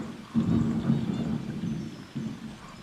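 Thunder from a storm outside rumbles low and muffled in two rolling swells, with a steady background hiss, heard from indoors with no talk.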